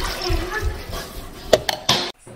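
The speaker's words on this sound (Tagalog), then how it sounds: "At ngayon, lalagyan natin ng tubig." Water is poured into a cooking pot of boiled beef ribs, a steady splashing rush followed by a few sharper splashes and then a sudden stop.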